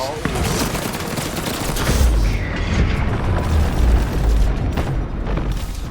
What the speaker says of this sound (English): Flash bomb.